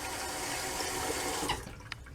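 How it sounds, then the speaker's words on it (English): Running tap water pours steadily as a 3D printed Taipan razor is rinsed under it, a close splashing rush that breaks up and tapers near the end. "And rinse out the Taipan."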